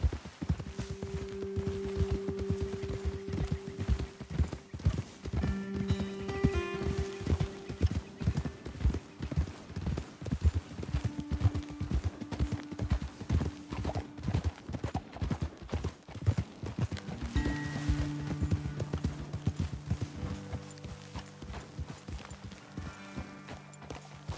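Horses trot in Red Dead Redemption 2 with rhythmic clip-clop hoofbeats throughout, accompanied by a background musical score and an occasional whinny.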